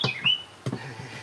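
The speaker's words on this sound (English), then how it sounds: "You hear these birds, they gang banging right now." Birds chirp outdoors in a few brief, close, high calls separated by short gaps, fairly faint with no talk over them.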